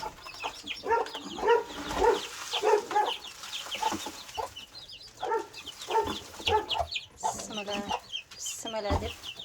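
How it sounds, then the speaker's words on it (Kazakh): Mother hen clucking alongside her chicks: bursts of low clucks come in rhythmic clusters, with higher chick peeps between them, nearby, and a little background talk. "Ана тауықтың балдары дейсіз бе?"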